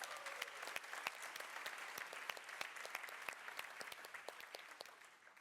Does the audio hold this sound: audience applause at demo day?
yes